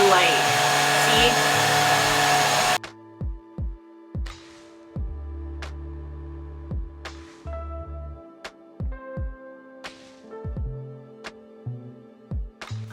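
A vacuum cleaner roars loudly over a mattress for a few seconds, then cuts off, leaving a string of sharp knocks and clicks spaced through the quiet that follows.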